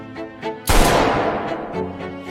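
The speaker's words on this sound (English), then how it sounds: "a gunshot suddenly shattered the silence of the conference hall" A single loud, close gunshot sound effect in a conference hall cracks sharply and leaves a long, decaying echo, after some quieter tonal sounds that come before it.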